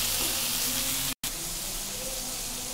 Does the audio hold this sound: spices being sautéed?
yes